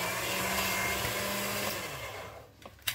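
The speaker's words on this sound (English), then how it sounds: "we're going to run it through our pasta machine on the thickest setting" Polymer clay fed through a pasta machine on its thickest setting gives a steady whirring, grinding drone for about two and a half seconds, then fades into a couple of short clicks and knocks as the sheet is pulled off.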